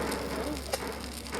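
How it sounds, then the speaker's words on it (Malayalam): Rain falls steadily in a Roblox video game, a dense even hiss of drops with one brief sharper patter near the middle and no voices. "മഴ പെയ്ത എന്ത് ചെയ്യും ഇപ്പൊ?"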